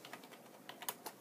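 Light typing on a computer keyboard, a brief run of soft, irregular key taps picked up close but at low level, with no voices.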